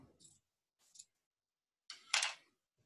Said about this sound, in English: we're gonna cut the circle in half